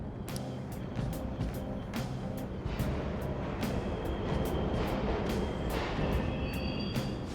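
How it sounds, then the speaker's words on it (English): Subway trains running in the Persona 5 Royal game, a continuous low rumble and rattle with repeated clanking hits and a faint high whine, loud and steady throughout with no talk. "The trains are totally running!"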